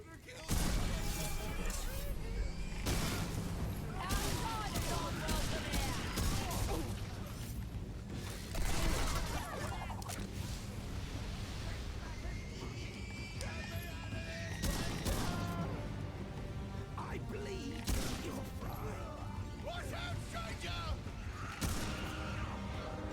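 Shotgun blasts from a mech in Armored Core 6, repeated heavy bursts hitting at irregular intervals amid mechanical clanks and crashes, loud and dense, with a player's voice over the action.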